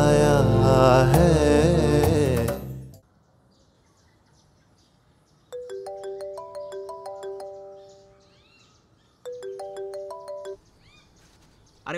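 A phone ringtone plays in two short bursts of repeating melodic electronic tones. A loud music passage comes just before it, and there are quiet pauses between the bursts.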